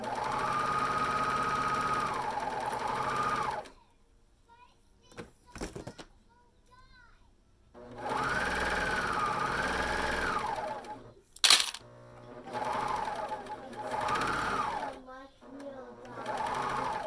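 A sewing machine stitches a pocket onto a t-shirt in long steady runs of whirring, with pauses between bursts and a sharp clack at one point; a voice talks at times.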